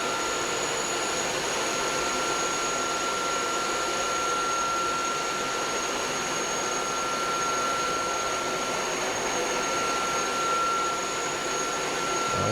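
Two wet dry vacuums, an Uwant D100 and a Tineco Floor One S5, run together on max suction while cleaning up tomato sauce, giving a steady, loud, unbroken motor whine and airflow roar with a faint high tone throughout.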